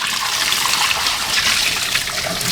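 Old coolant and water drain from a Chevy Cruze engine with a leaking water outlet into a catch pan, a steady, close splashing trickle that runs unbroken and fairly loud with no voices over it.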